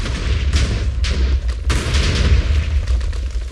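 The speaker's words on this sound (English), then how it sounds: "Man, those are good explosions." Several heavy video game explosions in Minecraft boom and burst together in quick succession, loud and close, with rumbling low-end under each blast.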